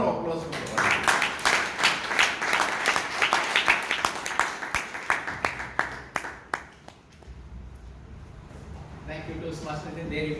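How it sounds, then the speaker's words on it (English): Applause from the audience at a Toastmasters meeting in Bangalore, a dense run of many hands clapping that thins into scattered claps and fades out near the end. "You deserve a round of applause from the audience."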